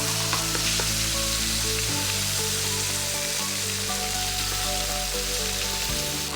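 Thai cashew chicken stir-fries in soy sauce in a hot pan, giving a loud, continuous close-up sizzle with crackling pops and occasional stirring scrapes throughout.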